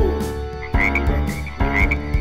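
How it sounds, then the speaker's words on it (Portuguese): Frog croaks repeat in a steady rhythm over a musical backing, loud and close, with no speech. "Coaxa com o sapo"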